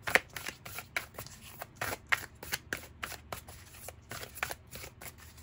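An Angels and Ancestors oracle card deck is shuffled by hand, giving a steady run of soft, close riffling snaps and card slaps with no talk.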